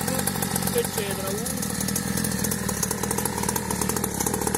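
A mini cross motorcycle engine warming up at idle, a steady buzzing drone held at a constant pitch throughout, close and loud, with some talk in the background.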